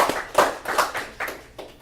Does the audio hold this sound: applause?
yes